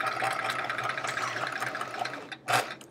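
Sewing machine stitching a chevron quilt top, a steady close mechanical whir running continuously for a few seconds before a brief louder burst near the end.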